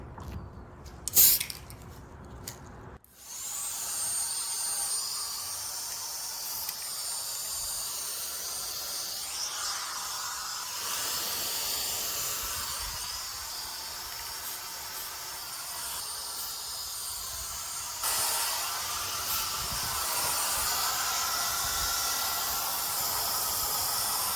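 Spray paint hissing onto a Star Trek NX-01 Enterprise model, a steady airy spray sustained for over twenty seconds, close and continuous, after a few brief clicks and rattles at the start.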